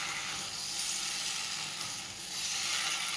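Mutton curry being cooked down in a pan at home, giving a steady broadband sizzle and hiss that holds through the whole stretch, dipping briefly before swelling again, with no voices over it.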